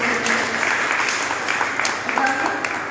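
Audience clapping at a women's book discussion gathering, a steady dense patter of many hands sustained throughout, with a faint voice murmuring underneath.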